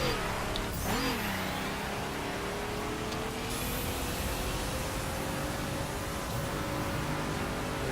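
A race car engine in the video game The Crew drones steadily at high revs, with a brief pitch dip and rise near the start as a gear shifts, then a long, steady engine whine under constant road noise.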